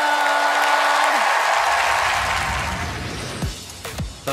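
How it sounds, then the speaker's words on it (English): Studio audience at a televised singing competition breaking into loud, sustained applause that thins toward the end into a few scattered claps. "let's hear some applause for these adorable paws."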